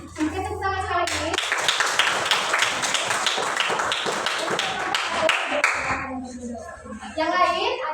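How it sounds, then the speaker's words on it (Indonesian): Schoolchildren clap together in a classroom, a loud, fast burst of hand claps lasting about five seconds. Children's and a teacher's voices are heard before and after. "tepuk tangan sekali lagi"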